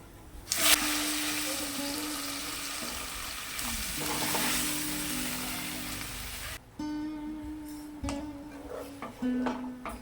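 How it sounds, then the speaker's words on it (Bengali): Pumpkin stalk curry is poured into hot oil tempered with five-spice, bursting into a loud, close, steady sizzle with stirring scrapes; the frying briefly drops back and then continues with softer crackling. "এখন তরকারিটি ঢেলে দেব।"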